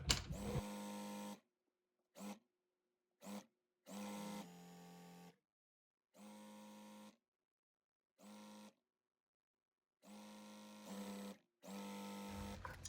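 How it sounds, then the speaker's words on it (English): A sewing machine stitches a four-strip quilt fabric unit in repeated bursts, some long and some quick, separated by silent pauses, fairly close and with no talking. "Line those seams up and sew this 4 strip unit together."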